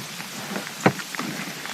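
Rain falls at a campsite on the Marmaris coast with no wind, soft patters and scattered drops with one sharper close tap, quiet and alone.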